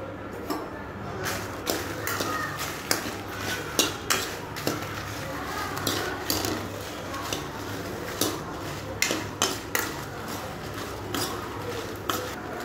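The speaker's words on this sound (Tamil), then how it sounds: "காரம் நம்ம கஞ்ச மிளகாய் சேர்த்து நம்ம வறுத்தலாம்." Dried red chillies dry-roast in a pan for idli podi while a utensil clinks and taps against the metal in a rough, repeated rhythm over a faint background hum, close by.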